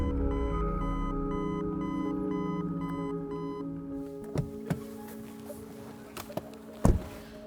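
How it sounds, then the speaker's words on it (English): Repeating electronic warning beeps chime in a steady on-off rhythm inside a quiet Leapmotor B10 electric car, then stop, leaving a few soft thumps and clicks. "Except the beeping, that's not very positive at all."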